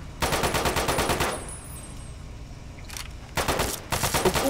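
Rapid automatic gunfire from the video game Fallout: Tale of Two Wastelands comes in loud bursts: a long stream, a pause, a short isolated shot, then two more fast bursts.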